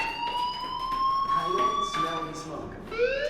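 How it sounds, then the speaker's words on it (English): A fire alarm rings steadily in the video game Life is Strange, a loud electronic tone with bright upper harmonics that rises slightly in pitch, with game voices and effects layered over it. "Hey, do you hear that fire alarm? That means you should be outside."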